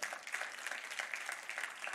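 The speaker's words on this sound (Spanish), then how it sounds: "Denle un aplauso fuerte a Cristo." A church congregation at a Spanish-language service gives a short, vigorous burst of applause, many hands clapping together in a dense, lively patter for about two seconds.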